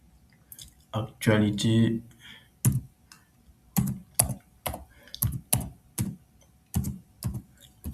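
Keys clack on a computer keyboard as a search is typed, a run of separate taps spaced unevenly, heard alongside a voice speaking over them.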